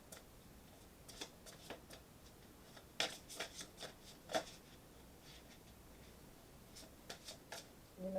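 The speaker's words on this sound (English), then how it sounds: "Let's pull some oracle cards." Oracle cards being shuffled by hand: a string of soft, quick papery riffles and taps, close and fairly quiet, with a few sharper snaps along the way and no talking.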